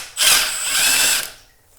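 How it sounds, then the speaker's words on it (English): A power tool whirs loudly in one sustained burst of just over a second, undoing 12mm bolts on a Subaru EJ20K engine in a GC8 WRX/STI, then winds down into quiet. "then we got to undo these two 12mm bolts"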